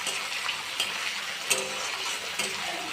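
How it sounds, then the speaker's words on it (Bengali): Ginger and onion fry in a pan with an even sizzle, broken by a few sharp utensil scrapes and taps as they are stirred; no one speaks. "আদা দিয়ে দিয়েছি আর পেঁয়াজ দিলাম এবারে আমি এটাকে একটু ভালো করে ভেজে নিই"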